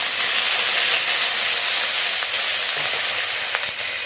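Cauliflower and potatoes sizzle and fry steadily in hot oil in a pan for an Assamese fish curry, a loud continuous crackling hiss with occasional small pops and stirring scrapes.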